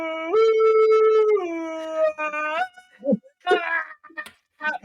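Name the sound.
dog howling in the background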